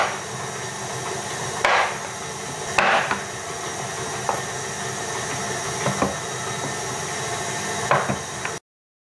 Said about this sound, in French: vous pouvez commencer déjà à découper le chocolat blanc au chocolat noir. Vous faire de gros morceaux de préférence.